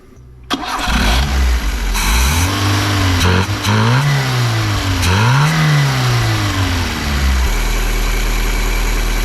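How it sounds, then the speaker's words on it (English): Fiat 124 Spider 2000 engine fitted with a Weber 32/26 DFAV carburetor cranks and catches, then runs loud and close with repeated throttle blips whose revs rise and fall before settling to a steady idle, with no talk. "when you kick the throttle a little bit, it falls down and it's no longer on that high idle spot"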